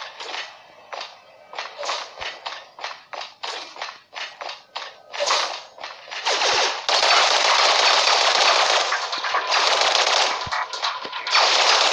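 Rapid gunfire in the shooter game N.O.V.A. Legacy, first in short separate bursts, then merging into long sustained automatic volleys, loud and close with no talk over it.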